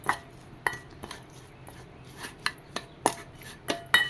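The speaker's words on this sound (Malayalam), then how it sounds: "എല്ലാവിടെയും നന്നായിട്ടൊന്ന് മിക്സ് ചെയ്ത് കൊടുക്കാം" Salted cherukizhangu tubers are stirred in a bowl, giving a string of separate clinks and scrapes of a utensil against the dish, fairly close and irregularly spaced, with no voices.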